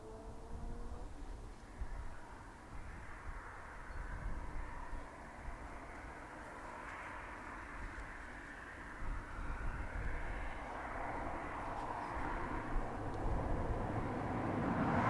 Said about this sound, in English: ATR in the background.